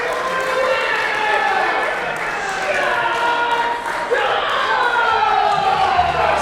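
A wrestling crowd roars and cheers after a match win at an indie wrestling show, a loud sustained arena noise with shouts and whistles rising and falling, while a commentator talks over it.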